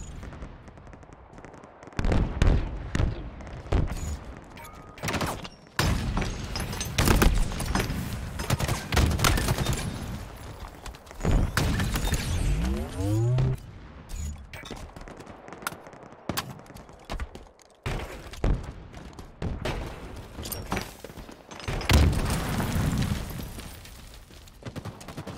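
Video game gunfire during a tower-control match: rapid bursts and single shots crackle close and loud throughout, clustered into uneven volleys with short lulls, and no talking.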